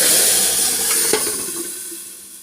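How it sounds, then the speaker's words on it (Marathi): Tempering spices for sambar hiss and crackle loudly in hot oil, a dense close sizzle that fades gradually over a couple of seconds. "छान कडकडीत फोडणी बसायला पाहिजे"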